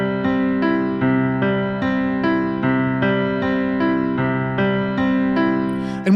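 A piano repeats a steady chord pattern with the sustain pedal held down, so each struck group of notes rings into the next. Even, regular attacks about every 0.6 seconds build a smooth, loud, resonant wash with no talking.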